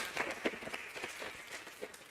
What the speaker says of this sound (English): Give Lisa a round of applause.